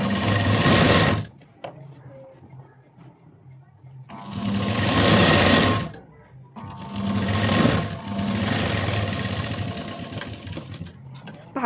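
A sewing machine stitches blouse pieces together during a blouse-fitting job, running in three close, loud bursts of rapid whirring separated by quieter pauses.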